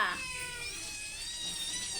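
A cat meows loudly and close by at feeding time, with fish being mixed for it indoors; one drawn-out, wavering call fills the moment with no talk.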